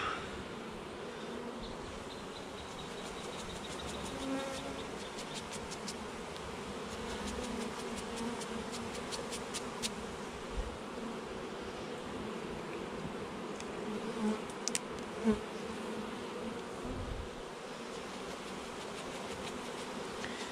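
Honeybees from an artificial swarm buzz steadily around an open hive, a dense, continuous drone with many insects close by and no voices.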